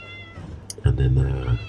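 A cat in a workshop gives one drawn-out meow, close and fairly loud, after a short quieter sound, with room hum underneath.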